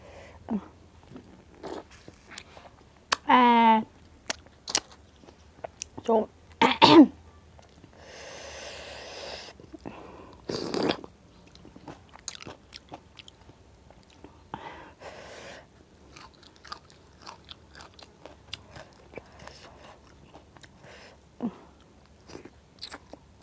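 Someone eats spicy cockle salad with fermented fish sauce, biting and chewing with sharp, crunchy crackles close to the mouth, scattered irregularly between quiet gaps and a few breathy snorts and gasps.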